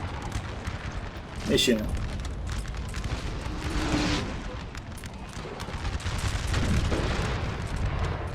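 Artillery pieces in Napoleon Total War boom in scattered volleys, with dull distant thuds swelling and fading while someone talks over the battle.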